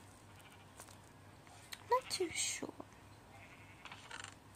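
A short, high bleat from a sheep in a crafting and building video game rises briefly near the middle, with a quiet voice speaking over it and soft background hum.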